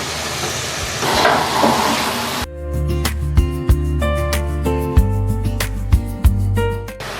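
Prawns, tomato and spinach fry and get stirred in a pan, a broad sizzle giving way to louder clattering stirring strokes and scraping, close and alone.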